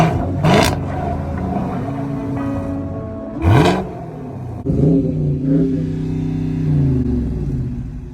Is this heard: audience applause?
no